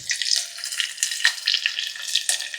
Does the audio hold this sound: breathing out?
no